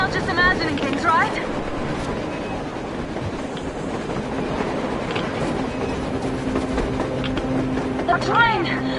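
A train rumbles steadily under a surface wind bed in the post-apocalyptic game Metro Exodus, with a faint rhythmic clatter and a high whine near the end as voices speak over it.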